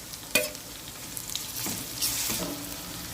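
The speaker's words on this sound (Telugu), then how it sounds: "అల్లం వెల్లుల్లి పేస్ట్ ఫ్రై అయ్యే వరకు మనం కొద్దిగా మూత పెట్టుకోవాలి" Ginger garlic paste frying in a pan with onions and green chillies for a prawn and lady's finger curry, a steady close sizzle with a few sharp stirring scrapes and clinks.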